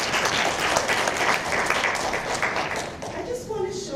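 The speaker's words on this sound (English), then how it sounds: "I think that deserves a round of applause." Sustained applause from an audience at a speech event about Japan–Jamaica friendship, a dense, even wash of many hands clapping that continues steadily for the full few seconds.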